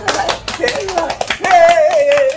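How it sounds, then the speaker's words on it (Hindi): Claps ring out at a family gathering in a comedy scene, a few sharp hand claps scattered over loud overlapping talk, with one voice rising into a sustained singsong tone. "चलो ना बजाओ ना तालियां"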